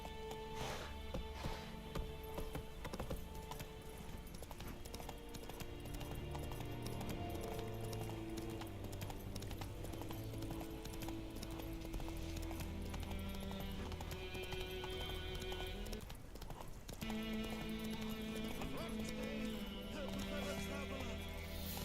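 Roach, the horse in The Witcher 3, gallops in a fast continuous drumming of hooves under layered game music, with brief spoken lines mixed in.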